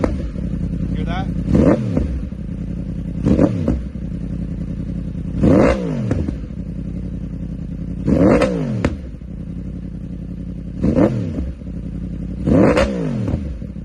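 A 2023 Yamaha R1 sportbike engine revs in Mode A with its different fuel map, giving five or six sharp throttle blips that rise and fall over a steady idle, loud and close.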